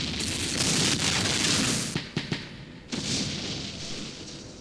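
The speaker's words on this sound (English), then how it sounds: "It's a little bit of mortar fire." Mortar fire in the war video game Campaign Series Middle East, with armored vehicles nearby: a rumbling blast followed by a few sharp thuds and another dull impact, mid-distance and moderately loud.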